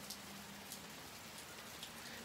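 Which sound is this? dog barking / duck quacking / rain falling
rain falling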